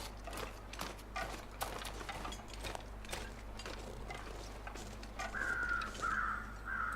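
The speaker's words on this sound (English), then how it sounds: "apart from the crows, we haven't seen any wildlife" Crows caw repeatedly in a cold survival video game, a few harsh calls rising clearly toward the end over a low steady ambient drone, with no talk.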